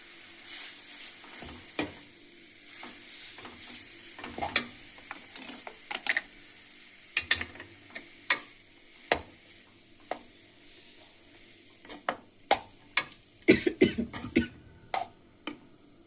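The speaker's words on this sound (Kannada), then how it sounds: "ಈಗ ನಾನು ರೆಡಿ ಇರುವಂಥ ಅನ್ನನ ಈ ಗೊಜ್ಜಿಗೆ ಹಾಕಿ ಮಿಕ್ಸ್ ಮಾಡ್ತೀನಿ" Cooked rice being stirred and folded into a raw mango gojju for chitranna, with a spoon clinking and scraping against the pan in scattered, irregular taps and louder bursts of mixing near the end.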